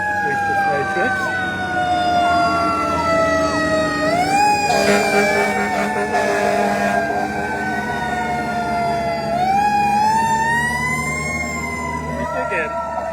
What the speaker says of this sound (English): Here comes two fire trucks.